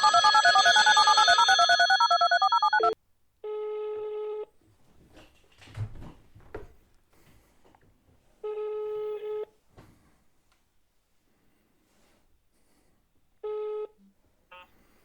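Telephone rings with an incoming call, first as a loud, warbling electronic ring, then as three separate steady ring tones spaced several seconds apart, each clear and close, with quiet handling noise and rustling in between.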